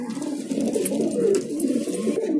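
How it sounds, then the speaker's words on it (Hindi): Pigeons at a Delhi pigeon market coo in low, rolling, throaty bursts, close and fairly loud, with no talking over them. "ये कबूतर और पकड़ लिया भाई ने"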